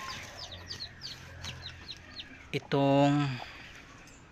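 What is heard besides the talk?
chicks in a cardboard box with a lamp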